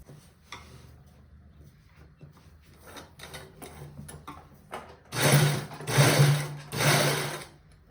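Sewing machine stitching a fish cut garment, a soft preparatory stretch giving way to three loud close bursts of fast rhythmic needle clatter.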